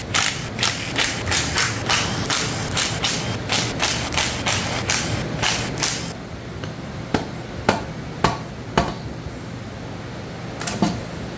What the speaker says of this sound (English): Now we can go ahead and start zipping pan bolts out.